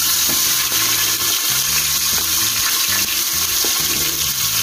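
Chopped onion sizzling in a hot pan while pasta sauce with tomato is being started, a steady broadband hiss with faint clinks of stirring, close and continuous with no talk.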